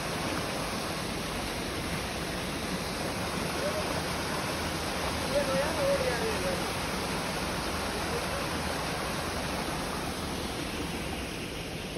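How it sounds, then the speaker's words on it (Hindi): Steady, dense roar of falling water, constant and full throughout with no pauses, from a forest waterfall in Uttarakhand during the monsoon, heard from nearby. "ये बहुत ही प्यारा खूबसूरत झरना है"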